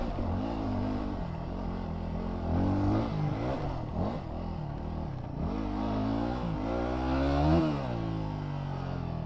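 A dirt motorcycle with bouncy rear suspension labours through mud, its engine droning close and loud with repeated revs rising and falling as the rider pushes on, no talk over it.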